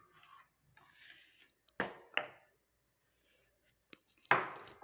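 Cinnamon bark pounded into powder in a quiet kitchen, a few separate heavy thuds spaced irregularly with light scraping between them, close and alone.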